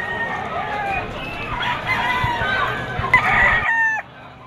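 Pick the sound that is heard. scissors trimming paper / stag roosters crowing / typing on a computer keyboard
stag roosters crowing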